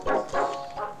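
A small dog in the video game Undertale gives three short, soft yipping barks in quick succession, close and clear with no talk over them.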